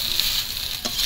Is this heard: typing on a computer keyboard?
no